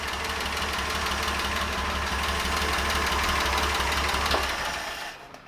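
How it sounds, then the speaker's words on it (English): A Willys engine running out of gas holds a steady, loud, rumbling idle close by, then sags and dies away near the end as it stalls. "I was holding up to that point where it just falls on its face, add fuel, it revved up more"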